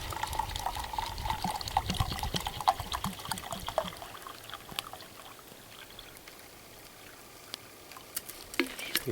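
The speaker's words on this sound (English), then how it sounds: "Add some water." Water pours and splashes into a cooking pot set up for caveman-style cooking on coals, a continuous gurgling stream that settles into a softer trickle with a few clinks near the end.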